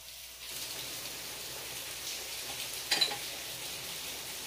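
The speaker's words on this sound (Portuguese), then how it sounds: "vocês estão ouvindo o barulho da chuva?" Rain falls outside in a soft, steady patter heard faintly from indoors, with a brief clatter near the middle.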